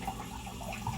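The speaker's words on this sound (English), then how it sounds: "we gotta wash our hands" Tap water runs steadily into a sink during handwashing before baking banana bread, a soft continuous splashing wash with no break across the second.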